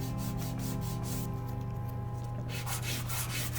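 Soft pastel and charcoal rubbed and blended across BFK Reeves paper, a quiet, steady brushing scrape in short repeated strokes, close up and alone.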